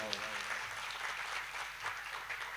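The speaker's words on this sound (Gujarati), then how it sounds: "એને જોરદાર તાળીઓથી વધાવો." An audience at a Chavda family Bhagavat Saptah honour ceremony gives steady, dense applause that stays fairly even and moderately distant throughout.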